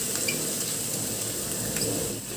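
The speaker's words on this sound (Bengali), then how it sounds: "পেঁয়াজ আর রসুন একটু ভাজা ভাজা হয়েছে, আমি এই পেস্টটা দিয়ে দিলাম।" Spice paste goes into a pan of frying onions and garlic for a jackfruit curry, producing a soft, continuous sizzle with faint bubbling close by.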